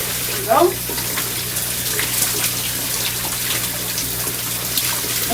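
A running shower pours over Samsung Galaxy Buds+ earbuds, a steady, close gushing hiss that continues throughout, with a brief vocal sound near the start.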